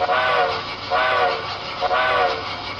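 Three short, evenly spaced toots of a brass model New Haven I-4 locomotive's whistle, each a brief chord-like blast over a constant hiss.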